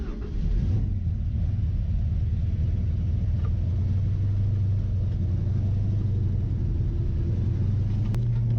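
A 1965 Ford Mustang engine starts and rumbles at a steady, deep idle throughout, close and continuous, with a brief sharp click near the end.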